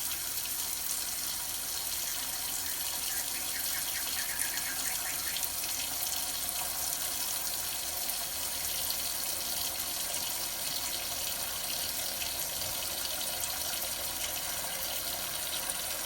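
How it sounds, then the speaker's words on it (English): Water runs steadily from a slow faucet into a clogged kitchen sink, a constant splashing hiss with slight gurgles, quiet and uninterrupted for the whole stretch. "Might take a minute. The faucet's a little slow."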